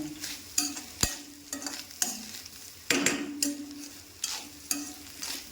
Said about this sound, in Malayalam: നന്നായിട്ട് നമ്മൾ വറുത്തരയ്ക്കാൻ അരയ്ക്കുന്ന പോലെയൊക്കെ തന്നെ അങ്ങ് വറന്ന് വരണം ഈ തേങ്ങായി